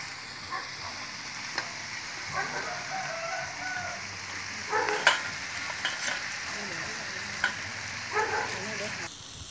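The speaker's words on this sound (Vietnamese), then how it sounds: "Đang để mì vô xào với mực đó." Noodles stir-fried with squid, cooked outdoors in a garden: a steady close sizzle and crackle of frying with scattered scraping and tossing of the pan, fairly quiet, with no one talking.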